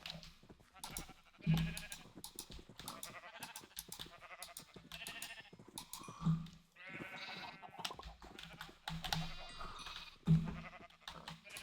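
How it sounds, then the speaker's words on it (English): Sheep bleat repeatedly in the Minecraft video game, several baby sheep nearby; short nasal bleats recur every few seconds over steady game ambience, fairly close and clear, with no talk. "There's 4 baby sheep."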